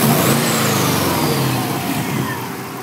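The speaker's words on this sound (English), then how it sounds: "still pretty loud and obnoxious" EJ20 engine swapped into a 2000 Subaru Forester, no longer on an open downpipe but still loud, revs steadily with a rough, throaty drone that eases slightly toward the end, close and without talk.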